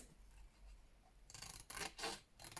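Scissors trimming around a paper piece for an envelope notebook craft, heard as close, soft snipping and rasping cuts in a few quick bursts after a quiet start, with no talking.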